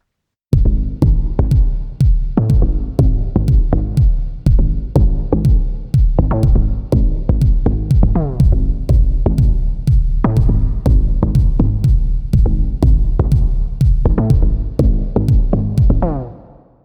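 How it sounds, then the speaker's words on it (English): A deep bass line in Logic Pro plays repeated low notes with a boomy, reverberant tail that smears each hit into the next, loud and alone. "Now what does the bass reverb sound like?"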